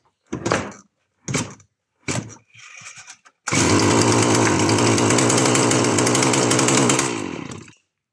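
A Stihl HS 81 R hedge trimmer, fitted without a proper carburettor, gets several short pull-start attempts, then catches and roars loudly and close for a few seconds before dying away.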